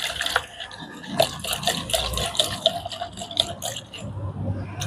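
Half a spoon of lime stirred into about a litre of water, with irregular close sloshing, clinking and splashing of liquid through the stirring and a faint voice in the background.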